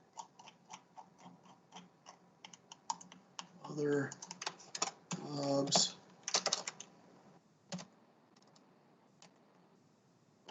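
Keys tapped on a computer keyboard in an office setting, irregular clusters of close, crisp clicks with short pauses, while a person speaks briefly over part of the typing.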